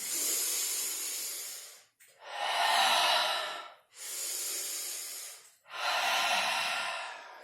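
Deep, slow breathing during a prenatal yoga session: four long airy breaths, each swelling and fading with brief pauses between, close and clear with no talking.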